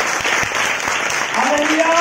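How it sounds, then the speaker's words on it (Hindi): A church congregation at a Sunday worship service claps loudly and continuously, a dense wash of applause throughout, with a voice speaking over it toward the end. "प्रभु यीशु मसीह हम जोरदार ताली बजा सकते हैं।"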